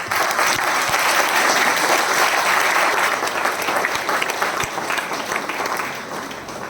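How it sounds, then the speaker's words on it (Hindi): Loud, dense applause fills a hotel banquet hall in Ranchi during a group training event, continuous clapping from a sizable crowd that gradually tapers off over nearly seven seconds. "एक बार अपने लिए जोरदार ताली होनी चाहिए बेटा"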